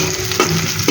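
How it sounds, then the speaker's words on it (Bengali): Onion and garlic sizzle loudly in a hot pan, a continuous close frying crackle with a couple of brief stirring scrapes. "পেঁয়াজটা ভাজা ভাজা হয়ে আসলে এর মধ্যে একটু রসুন কেটে রেখেছি, সেটা দিয়ে দিয়েছি"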